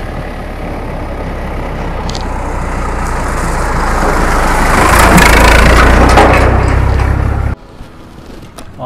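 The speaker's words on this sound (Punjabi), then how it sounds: "ਉਹ ਬੁਲਟ 'ਤੇ ਆਉਂਦਾ ਕੋਈ" A Bullet motorcycle on a road gives a steady, deep engine rumble that grows louder and peaks as it draws near, then cuts off abruptly near the end; no talking.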